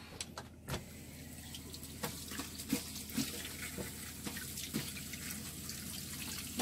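Tap water runs steadily into a sink while fish are rinsed for a home-cooked grilled fish meal, a continuous splashing wash with small clinks and knocks on top, no talking.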